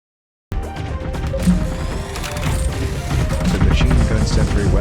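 A machine gun sentry in the game Artificial Extinction firing incendiary armor-piercing rounds in rapid five-round bursts, loud and close, with dense overlapping gunfire, impacts and explosions after a brief silent start.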